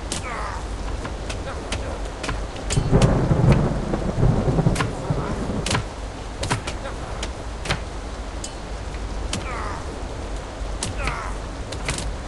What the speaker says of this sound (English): Sure, it's raining.